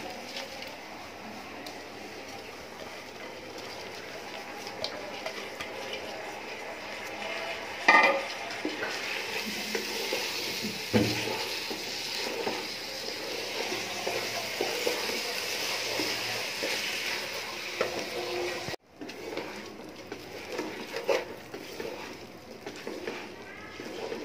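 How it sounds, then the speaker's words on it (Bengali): Rice being fried and stirred in a pan with onion and a bay leaf for thin khichuri, a steady close sizzle with scraping stirs and occasional clatter of a utensil against the pan, no talk. "চালটা আমার ভাজা হয়ে গেছে"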